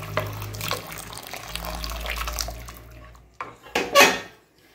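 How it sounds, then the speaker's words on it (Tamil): Boiled water pours and splashes into a metal pan with roasted semolina, with light clinks of cookware and a short louder burst of pouring near the end. "கொதிக்க வச்ச தண்ணி நம்ம ஊற்றிக்கிறோம்"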